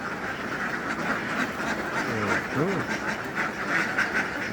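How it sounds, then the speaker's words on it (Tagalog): A large flock of farmed laying ducks quacks on a farm, a dense chorus of overlapping quacks with one louder nearby call standing out midway, under a constant outdoor hum. "Yan ang itik, ang dami oh."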